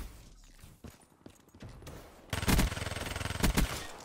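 Rapid automatic gunfire in the Dirty Bomb shooter during team deathmatch, a loud rattling burst of evenly spaced shots after quieter scattered game noise, with a couple of heavier bangs mixed in.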